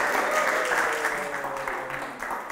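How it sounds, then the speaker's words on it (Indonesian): Audience applause at a live Indonesian stand-up comedy roast show, steady clapping filling the room for the full moment, with faint talk and a held tone underneath. "Tepuk tangan untuk Nona Berlian."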